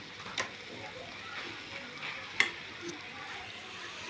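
Field beans (birda) with grated coconut being stir-fried in a pan give a soft, quiet sizzle, broken by a few faint clicks and scrapes of the spoon against the pan.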